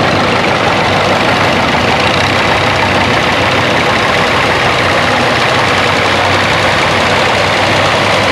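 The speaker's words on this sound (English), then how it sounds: "Roy Yoder from Boston, Kentucky, 1958 John Deere model 830." A 1958 John Deere 830 tractor at a plow day runs with a loud, steady low engine rumble and knock, continuous and close for the whole stretch with no talking.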